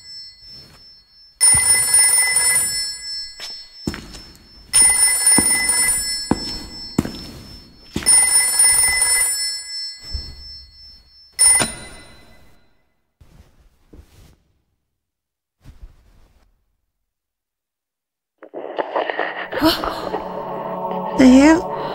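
A telephone in the horror video game Haunting Ground rings in repeated loud bursts separated by pauses, close and insistent, followed by quieter thuds and some voice-like sound near the end.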